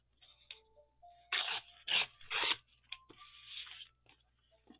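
Scissors cutting across paper for a mini book, a few short, faint crisp snips and rustles close by, with thin tonal whines between them and no voices.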